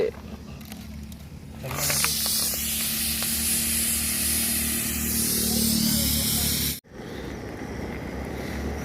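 A pressure cooker on a road-trip cooking stop vents steam in a loud, sustained hissing whistle for about five seconds, then cuts off abruptly, with faint voices in the background.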